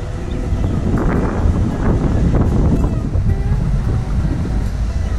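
Gusty wind rushes outdoors along a grassy coastal path in Oranjestad, Aruba, buffeting loudly and continuously with low rumbling throughout, no clear talk.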